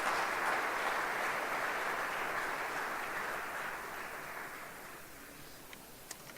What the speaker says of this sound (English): let us put our hands together for the entire organizing committee of IAA